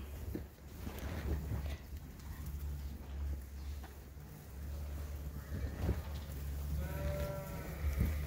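Sheep bleating on a sheep farm among a flock of ewes, a few wavering calls rising near the end over constant low background rumble, with scattered bird chirps.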